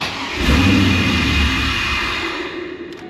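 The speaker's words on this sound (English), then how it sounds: "it snuffs out the minute I give it gas" Pontiac WS6 Trans Am engine given throttle, surging briefly and then sagging as it tries to stall, close and loud with no talking.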